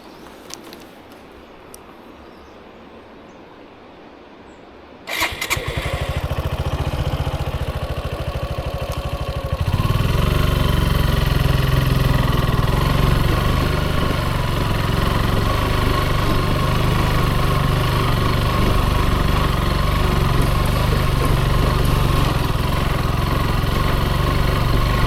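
A motorbike engine starts up after a few quiet seconds, then runs loud and close with a steady rumbling drone, rising to a stronger throttle note partway through and holding there on a mountain road.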